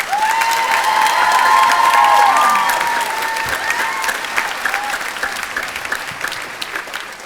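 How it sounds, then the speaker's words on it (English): Audience applause and some cheering at a school theatre cast performance, loud and sustained, swelling early then slowly easing, with a whistle-like tone near the start and no speech. "Now you may applaud."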